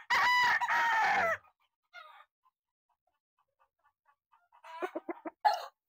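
A bull stag gamecock with blue legs crows loudly and close for over a second, followed by a quiet stretch of faint scattered sounds, then a burst of clucking and short calls near the end.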